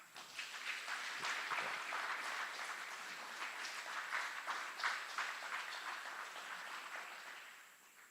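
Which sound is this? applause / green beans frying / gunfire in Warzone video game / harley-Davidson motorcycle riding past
applause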